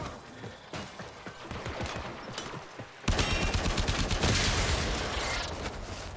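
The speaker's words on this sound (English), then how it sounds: "Oh, it's a turret" A turret in a video game opens fire, first a sparse run of shots, then a sudden loud, dense barrage of rapid gunfire that carries on steadily to the end.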